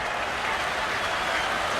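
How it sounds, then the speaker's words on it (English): Cricket crowd at a South Africa vs India Test match cheering and applauding a tailender's boundary through the covers, a steady broad roar of many voices holding throughout. "Well, that gets the crowd going."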